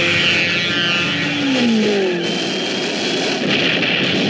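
Car chase from a Roger Moore James Bond film: engines rev and whine loudly alongside a dense mix of action noise, with a rising pitch sweep midway through.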